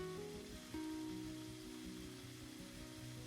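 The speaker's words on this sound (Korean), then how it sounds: "이제 살치살을 넣어서 익혀줄게요" Chuck flap beef searing in a pan with garlic and shredded mushrooms in avocado oil over medium-low heat, a steady close sizzle and crackle running continuously without talk.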